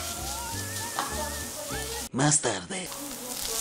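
Peppers and onion frying in a pan, a sizzle that is faint and intermittent beneath music and a voice speaking Spanish, with a brief loud crackle partway through.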